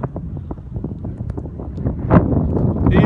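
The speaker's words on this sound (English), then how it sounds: "Oh man, it's a breezy one." Steady breezy wind at a small airfield where a Cessna 172 is flying, a loud low rumble buffeting the microphone with gusty surges and no talk.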